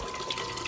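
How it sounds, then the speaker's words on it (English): Hot water pumped through a hose into fermentation carboys, a steady rushing, gushing flow heard close and continuous for a brief moment. "So your hot water's just going to come out here right into your carboys or whatever your fermentation vessel is"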